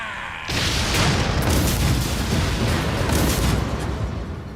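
Ship cannons fire on targets in the video game Like a Dragon: Pirate Yakuza in Hawaii. After a brief quiet lead-in, a heavy boom opens into a sustained, rumbling barrage of overlapping blasts.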